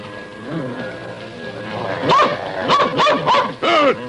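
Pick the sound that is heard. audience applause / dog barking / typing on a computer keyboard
dog barking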